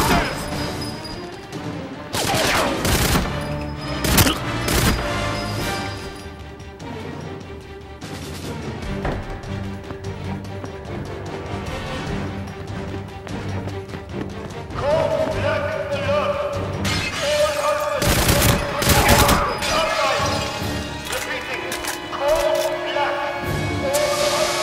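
AK assault rifle fire in GoldenEye 007 on the Wii: loud bursts of rapid shots cutting in and out over a continuous game soundtrack, with clusters near the start and again toward the end.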